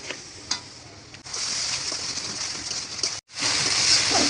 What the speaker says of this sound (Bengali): এখন তেলের উপর কষিয়ে নিব হালকা পানি দিয়ে।